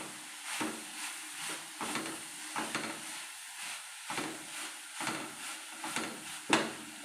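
A spoon stirs cooked beans in a pan during Kerala-style lunch cooking. Repeated scraping strokes come about once a second over a faint, steady sizzle, close up and with no talk.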